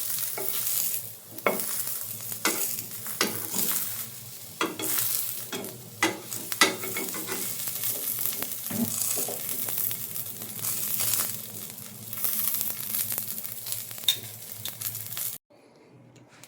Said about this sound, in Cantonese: 啲茄子啊煎一煎佢